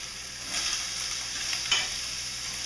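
Vidalia onion and andouille sausage fry in a lightly oiled skillet, giving a steady soft sizzle with a few faint scrapes of stirring; no voices.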